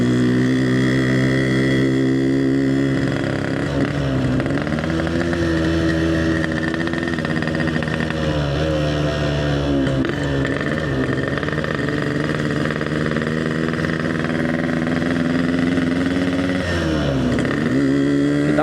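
A Yamaha RX King motorcycle engine runs steadily while riding, a loud, continuous two-stroke drone with shifting pitch and brief dips as the throttle changes, heard close with no talking.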